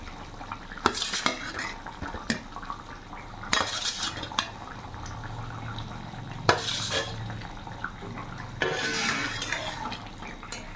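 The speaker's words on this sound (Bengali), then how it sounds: "এরই মধ্যে ভেজে রাখা মাছগুলো আমি দিয়ে দেবো।" Fried katla fish pieces added to boiling potato curry with ridge gourd in a pan, heard as intermittent clatters and clinks of a utensil against the pan over a low bubbling simmer.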